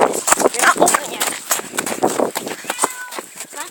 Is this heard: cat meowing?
yes